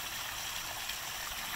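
Small garden waterfall among elephant ear plants, a steady broadband rush of falling and trickling water, close and constant with no voices.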